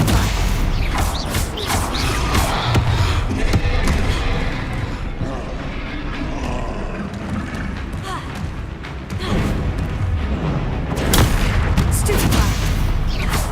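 Continuous spell combat in Hogwarts Legacy with Confringo and Stupefy casts, dense booming blasts and impacts layered over a rumbling battle bed, with intermittent sharp bursts and a voice faintly present in the mix.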